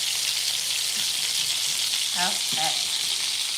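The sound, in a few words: vegetables sauteing with herbs in a pan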